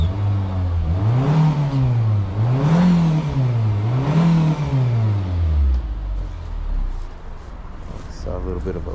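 A Nissan Juke with a catastrophically broken turbo is revved three times in sweeping rises and falls. The engine then settles into a lower, rougher running note, close and fairly loud.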